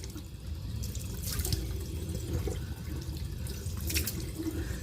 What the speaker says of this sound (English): And then I take my hand and rinse my face.